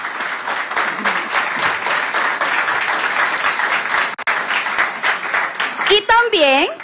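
A crowd at a Spanish Language Day celebration gives loud, sustained applause for an introduced speaker, a dense continuous clatter that briefly dips before a voice rises at the very end.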